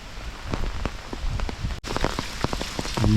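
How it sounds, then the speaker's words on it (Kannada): Heavy, continuous rain at a hill resort in Sakleshpur patters densely on a nearby surface, with scattered louder drips and splashes standing out against the constant downpour. "ಅಷ್ಟು ಮಳೆ ಬರ್ತಾಯಿದೆ ಕಂಟಿನ್ಯೂಸ್ ನಿನ್ನೆಯಿಂದ."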